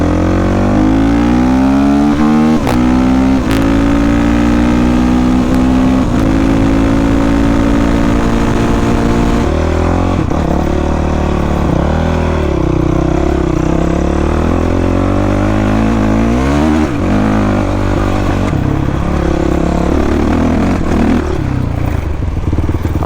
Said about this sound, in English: That's why people don't like off-roading on supermotos.